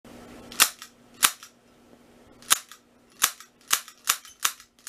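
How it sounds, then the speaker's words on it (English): Sharp snapping shots from a Glock 19 CO2 BB pistol fired at a light bulb, nine close, loud cracks in irregular succession, some spaced about a second apart and others bunched quickly, with a faint steady hum underneath. "I'm gonna be having the Glock 19 versus this light bulb right here"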